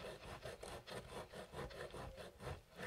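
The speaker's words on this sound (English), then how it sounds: "Now we grate the cheese." Aged pecorino cheese rubbed against a grater in steady, rhythmic rasping strokes, about a dozen quick scrapes close up with no voices.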